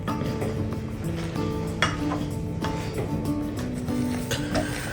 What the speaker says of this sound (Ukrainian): І просто тепер нам її гарно-гарно в пюре розімняти.